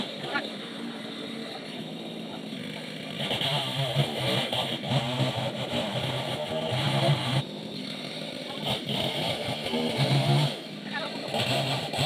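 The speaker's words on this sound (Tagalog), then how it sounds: "inaayos na po nila yung chainsaw" A chainsaw engine drones and revs up and down nearby, with people talking over the running motor.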